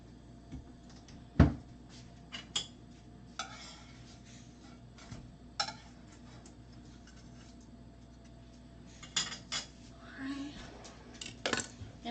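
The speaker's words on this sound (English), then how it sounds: "And I stir my rice. Stir the salt." Spoon clinking and scraping in a pot of salted white rice on a home stove, a few sharp metallic taps and soft stirring scrapes scattered through quiet kitchen room tone.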